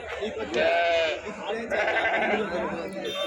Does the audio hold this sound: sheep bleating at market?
yes